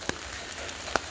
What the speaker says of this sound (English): it's still raining now non-stop